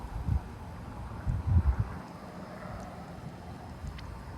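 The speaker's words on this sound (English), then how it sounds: "this wind has been so crazy" Strong wind gusts buffeting an outdoor microphone in Frisco, Texas, low rumbling bursts that swell and fade a few times over a constant windy roar, with faint distant high tones.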